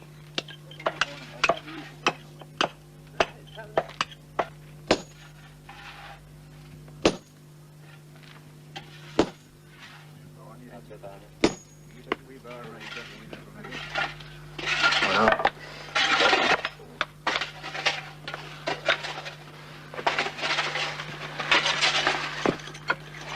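A stonemason drives metal wedges into holes to split stone, giving a series of sharp, ringing hammer blows at irregular spacing, then a denser stretch of scraping and clattering as fragments are worked and swept away.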